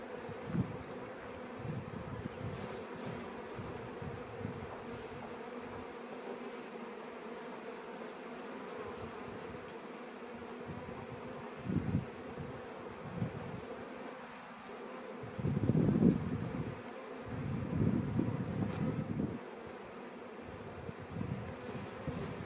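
Honey bees buzz steadily around lifted hive frames during a May honey harvest, a dense low hum with louder swells as bees fly close past, no talk.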